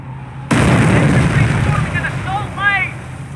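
Loud artillery blast from Company of Heroes, erupting suddenly with a heavy rumbling roar that lingers and fades while a voice speaks beneath it.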